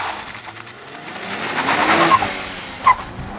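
A 2023 Nissan Z Performance with a manual gearbox and twin-turbo 3-liter V6 launches hard, tires squealing and engine roaring as it surges away, ending with a sharp burst.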